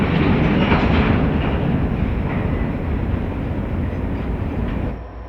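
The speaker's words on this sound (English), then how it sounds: "we see unit number 3004 emerging on point of this colorful consist for today's train" A Portland & Western freight train rumbles along the Toledo branch through a rock cutting, a loud, steady roar of engines and rolling wagons that holds close and then eases slightly near the end.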